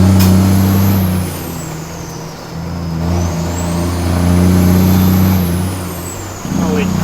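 A classic Peterbilt Super B truck with loud stacks drones steadily from inside the cab, its low engine note rising and falling as it pulls along, with a whining tone sweeping up and down and a short hiss near the end.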